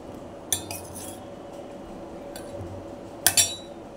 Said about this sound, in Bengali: আমি এবার রস থেকে তুলে দিচ্ছি ভুজিয়াগুলো